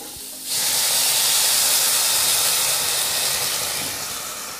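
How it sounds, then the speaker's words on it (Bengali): Water is poured into a hot pan of raw mango chutney and bursts into a loud, sudden hiss of steam that holds strong and then slowly fades, alone with no talk. "এবার দিয়ে দিচ্ছি জল"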